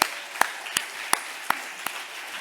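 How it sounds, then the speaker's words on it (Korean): A church congregation breaks into applause during Sunday announcements, heard as a handful of distinct, evenly spaced claps, sharp and close, over quiet room tone. "박수 한번 해주세요"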